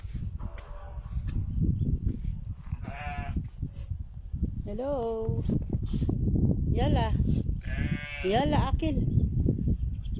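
Sheep and lambs bleat repeatedly in the desert near Abu Dhabi, several wavering calls close by at irregular intervals, some higher and thinner like a young lamb, while people talk quietly throughout.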